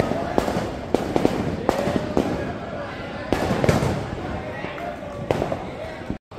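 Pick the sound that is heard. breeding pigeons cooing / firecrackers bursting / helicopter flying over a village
firecrackers bursting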